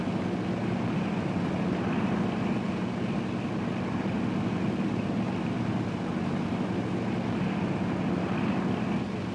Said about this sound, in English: Now you're going to see the very first deck landing by one of these craft.